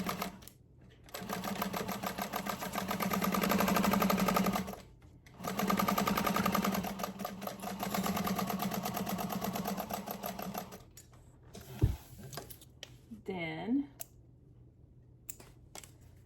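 A sewing machine runs in two long continuous bursts stitching the bottom edge of two clipped bag panels, a close, steady whirring hum with a short pause between, followed by a few clicks and handling sounds.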